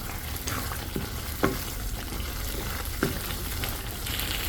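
A spoon stirring kasuri methi, coriander leaves and garam masala into a Mughlai chicken handi over a steady sizzle, with a couple of sharper scrapes against the pot.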